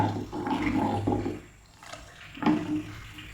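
Coconut milk, one cup of it, is poured into a curd curry (moru curry) in a pan, giving a soft liquid splash and gurgle that runs steadily, pauses, then resumes briefly, close and moderately loud.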